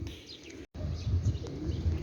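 Pigeons cooing softly and steadily close by, a white pigeon with a pigeon chick among them, low murmuring coos over a short stretch with a brief gap.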